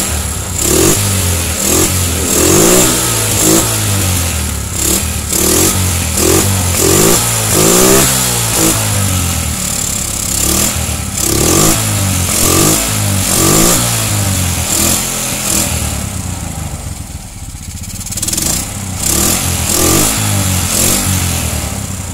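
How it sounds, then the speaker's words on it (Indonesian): A Suzuki Smash motorcycle engine is kicked over and then revved repeatedly, loud and close, in rising and falling bursts with a short lull before it picks up again. "Ayo kita coba engkol."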